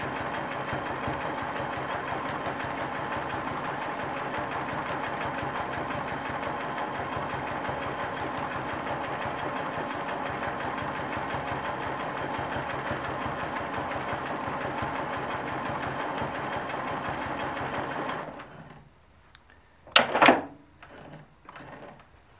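A sewing machine stitches ellipses on a piece of test fabric, humming steadily for a long continuous run before stopping, followed by a few sharp clicks and handling knocks.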